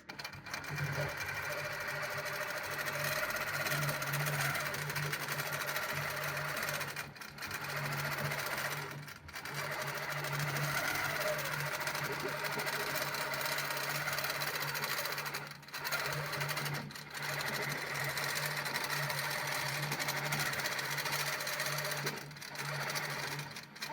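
A longarm quilting machine stitches a pantograph pattern across a quilt from the back, a loud continuous motorized hum with steady needle chatter, pausing briefly a few times before resuming.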